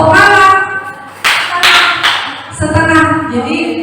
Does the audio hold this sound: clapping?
yes